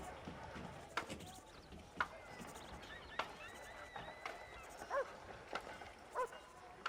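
Horses in the Western video game Red Dead Redemption give several short neighs and whinnies among scattered hoof clops, fairly faint street ambience beneath people talking.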